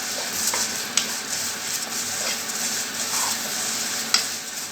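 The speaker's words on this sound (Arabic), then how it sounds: "ونقلب كده كل ما هدين النار عشان كده الشعريه طبعا خاينه بتستوي بسرعه وبتتحمر" Vermicelli fries in hot oil in a pan with a steady, close sizzle while a utensil stirs it, scraping and tapping now and then against the pan; no one talks.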